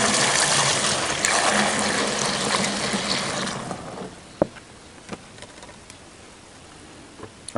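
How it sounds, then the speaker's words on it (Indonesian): Systemic herbicide liquid gushes steadily into a 16-litre sprayer tank, a loud rushing pour that stops partway through, leaving faint clinks and rustles. "Kita aduk terlebih dahulu dan langsung kita curahkan ke hairsprayer."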